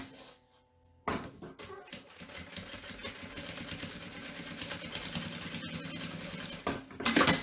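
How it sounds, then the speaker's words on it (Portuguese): A sewing machine starts after about a second of quiet and runs a fast, steady, close stitching rattle along a seam with repeated backstitching, ending with a brief louder burst of rattling. "Eu tô passando com bastante retrocesso"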